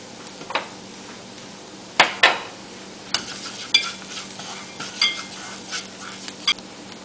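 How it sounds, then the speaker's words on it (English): Garam masala being stir-fried in a pan for a Swiss chard dish: soft sizzling under scattered sharp scrapes and taps of a utensil against the pan, close and without talk. "Followed by stir-frying garam masala for 30 seconds."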